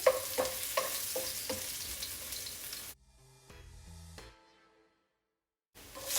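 Garlic stirred in a tablespoon of hot olive oil gives a close sizzle with a few rhythmic scraping strokes, then a clatter and a short silence before the sizzle returns.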